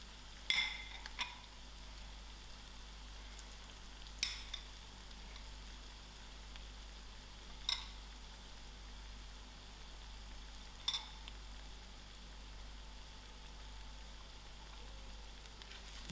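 Masala ingredients with green chilies frying in a pan for mealie rice biryani, a steady soft sizzle throughout with a few sharp clicks of a utensil against the pan, quiet and close with no voices.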